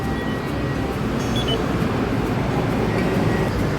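Steady low rumble inside an MRT Yellow Line electric train pulling away from Lat Phrao station in Bangkok, constant hum with faint high tones and no voices.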